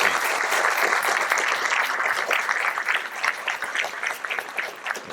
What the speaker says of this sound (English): How about a round of applause for all of our presenters tonight